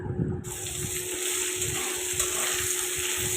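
Potatoes for a Bengali white potato curry sauté in a pan with a steady, close sizzle, alongside a faint running-water hiss throughout and soft scraping in the lower range.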